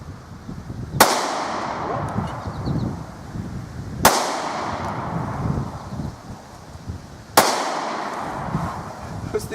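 Three loud, sharp gunshots from a Smith pistol fired outdoors at Mountain Dew cans, evenly spaced about three seconds apart, each followed by a short echoing tail over wind noise.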